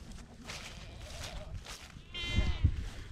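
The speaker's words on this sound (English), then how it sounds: "You got some of these goats coming out." A goat bleats twice near the end over quiet outdoor background noise, with faint rustling earlier, among baby goats.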